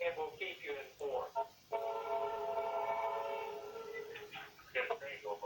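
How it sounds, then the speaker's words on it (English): A Norfolk Southern train passes by outdoors on a very hot day, with a sustained horn-like tonal blare over rumbling noise and voices talking intermittently. "Got a train go by."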